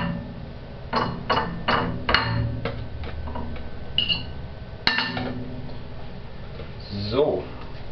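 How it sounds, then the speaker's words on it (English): Eggs are whipped up in a container, making a run of sharp, close clinking taps that slow and then stop, with someone talking over them. "whip up the eggs a little bit"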